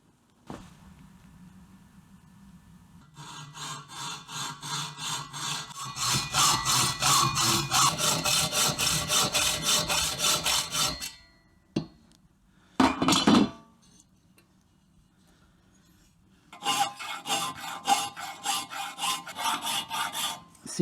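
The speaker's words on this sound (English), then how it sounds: "That's helping me to determine if my filing is flat" A metal header pipe being hand filed in a motorcycle workshop, with long steady rasping strokes that swell loud and rough, pause, then resume after a couple of sharp knocks.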